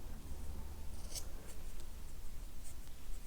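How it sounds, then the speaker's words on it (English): Scissors cut a small felt leaf close by, giving soft repeated snips and rubbing over a low background rumble, with no talking. "You just cut around and around the other side."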